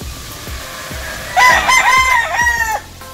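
A young April-born rooster stag in a backyard lets out a single loud, close crow lasting over a second, with quieter clucking and farmyard sounds before and after.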